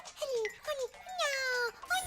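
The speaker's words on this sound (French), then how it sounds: "Ça, c'est un bon chien." A cartoon dog whimpers and yips in a short series of high, wavering whines, close and clear, with no talking over it.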